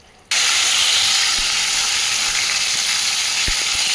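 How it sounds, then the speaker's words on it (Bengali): Whole dried red chillies, bay leaves and cumin seeds hit hot oil in a pan and burst into a loud, steady sizzle that continues with a few soft clicks of stirring. "তেলে এই গোটা শুকনো লঙ্কা তেজপাতা আর একটু জিরে দিয়েছি গোটা।"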